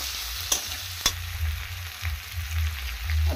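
Onions frying in a pan with a little salt, a close steady sizzle broken by a couple of sharp stirring clacks of a spoon against the pan, with no voices.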